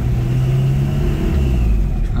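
A Toyota Starlet fitted with a turbo-style aftermarket exhaust is revved at a workshop, loud and close, its deep rumbling drone rising and falling steadily with no talk over it.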